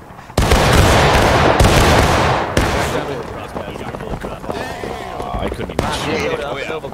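A regiment's musket volley in the game War of Rights, opening with a sudden loud crack of massed gunfire, followed by a second burst and scattered shots fading into echo while players talk.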